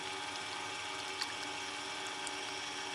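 A resin pin blank is sanded with 800-grit paper on a lathe spinning at about 2,200 RPM, giving a quiet, steady whirring hiss that stays even throughout.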